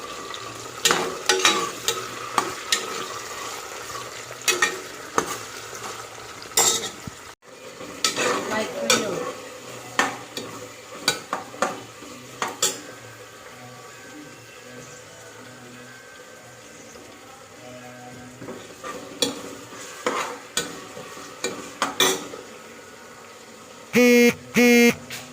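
Onion and ginger-garlic paste fry with cloves in a pan, a bubbling sizzle broken by repeated scraping stirs of a spatula, with a short pause partway through and more clattering near the end.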